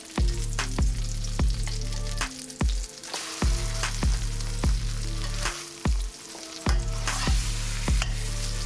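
Flipped salmon fries in a pan, giving a loud, constant close sizzle marked by a regular series of sharp clicks or taps.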